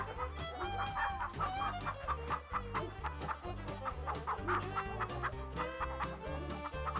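Chickens cluck steadily and a rooster joins in, loud and close, over a dense layer of other sound throughout.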